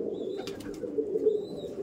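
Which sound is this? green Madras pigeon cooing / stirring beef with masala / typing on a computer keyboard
green Madras pigeon cooing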